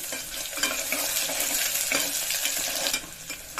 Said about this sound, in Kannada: ಕರಿಬೇವಿನ ಸೊಪ್ಪು, ಈರುಳ್ಳಿ ಕೂಡ ಹಾಕೊಂಡ್ಬಿಡಿ. ಫ್ರೈ ಮಾಡ್ಕೊಳ್ಳಿ.